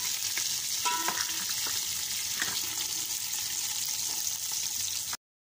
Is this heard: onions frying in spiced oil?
yes